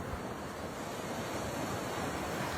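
Surf rolls continuously onto Alibag beach, a popular Konkan coast shoreline, as a steady broadband wash of breaking waves with some wind noise on the microphone, no voices.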